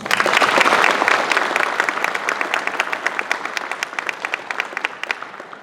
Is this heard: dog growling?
no